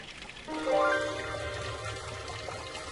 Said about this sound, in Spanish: Hay 16 fuentes en la ciudad diseñadas hermosamente